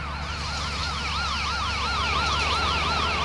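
Police car siren in a bus driving video game, a loud electronic wail sweeping up and down in rapid repeated cycles, close and steady with no talk over it.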